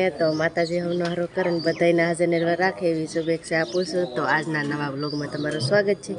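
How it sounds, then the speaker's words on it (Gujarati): Birds call faintly on a cool village morning, their chirps and coos sitting beneath a man's steady, continuous talking. "નટાણમાં તો જો પક્ષીનો અવાજ આવે છે"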